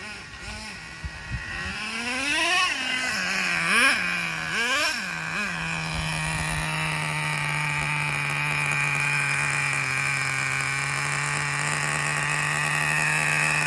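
An HPI Super Nitro RS4 nitro RC car engine revs in a few sharp blips during break-in, then settles into a steady, buzzing high-pitched idle that holds loud and close with no talking.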